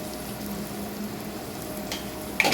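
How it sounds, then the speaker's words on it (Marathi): Tomatoes with red chili powder and turmeric stirred in a pan over a medium flame, a soft continuous sizzle with a faint scrape of the spoon near the end. "लाल तिखट आणि हळद घालून मी ढवळलेलं आहे ते।"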